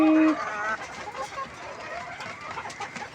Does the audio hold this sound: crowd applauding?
no